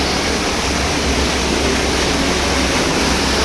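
The Guchhu Pani waterfall near Dehradun roars as loud, steady, broadband rushing water with no breaks and no voices.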